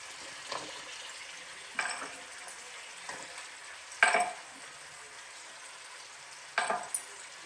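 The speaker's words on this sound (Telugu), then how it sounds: "చూడండి, బాగా ఫ్రై అవుతున్నాయి." Tomato and onion fry in a pan with a faint, steady sizzle, interrupted by five or so brief stirring scrapes and clinks of a utensil, close and quiet, without speech.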